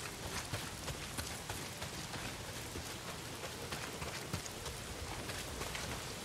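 Heavy rain in the video game Days Gone, a steady dense patter of drops on surfaces filling the scene at moderate level with no voices.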